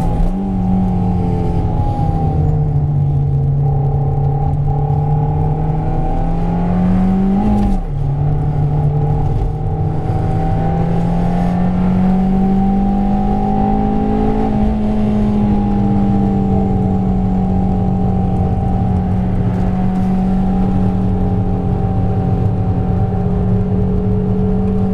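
Fiat Panda 100HP racing on a circuit, its engine droning steadily and loud throughout, pitch rising and falling with gear changes and throttle, with a brief dip near the middle while chasing a Porsche.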